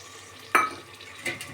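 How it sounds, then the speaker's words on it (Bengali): Spice paste with onions fries in a pan for an eggplant dish, with two sharp spatula scrapes or stirs over a faint, quiet sizzle. "এখন এটাকে ভালো করে ভেজে নেব"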